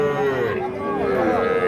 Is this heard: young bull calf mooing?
yes